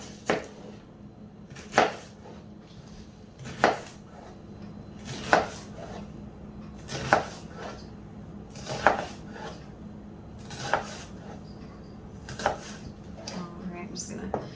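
A knife chops an onion into roughly one-centimeter cubes on a cutting board, giving sharp, evenly spaced strikes about every two seconds over a low, steady kitchen background.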